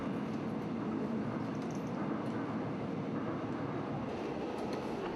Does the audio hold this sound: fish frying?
no